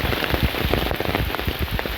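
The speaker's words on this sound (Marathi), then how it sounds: "पाऊस एवढा प्रचंड वाढलाय की छत्री घेऊन सुद्धा पूर्ण म्हणजे भिजायला झालाय" Heavy monsoon rain pours down in a Kokan village in Kankavli, beside the Gad river. It makes a loud, close, steady drumming wash with dense overlapping drops and no break.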